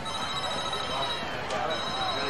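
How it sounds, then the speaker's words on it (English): A telephone rings in a football press box during a 2002 high school game, a steady electronic ring running throughout under a busy, noisy crowd background with voices. "I don't know whose phone that is."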